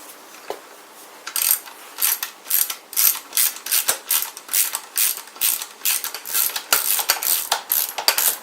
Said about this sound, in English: We got two 10mm bolts that we're going to put in there. We're just going to finish tightening those up.